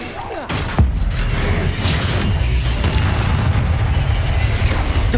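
Incendio fire spell cast in Hogwarts Legacy on Xbox Series X, a burst of roaring flame with a booming onset that settles into a dense, continuous crackling rumble amid busy combat noise.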